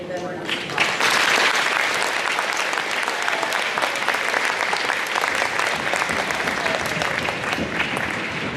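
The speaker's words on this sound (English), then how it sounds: "if we give them a round of applause" Sustained audience applause for middle school orchestra students at an awards ceremony, a dense wash of clapping that swells early and holds steady and fairly loud throughout, with faint voices mixed in.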